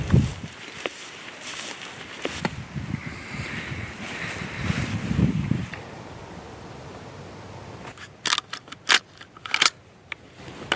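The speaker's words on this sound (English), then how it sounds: "it's really windy" Strong wind blows across an open field, roaring and buffeting the microphone in uneven gusts, with sharp bursts of wind noise toward the end.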